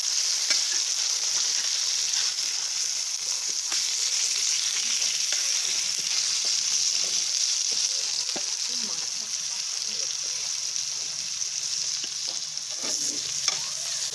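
Chicken kosha sizzles and fries steadily in a pan after a splash of water goes in, a constant bright hiss with occasional stirring scrapes and pops, close and continuous with no talk.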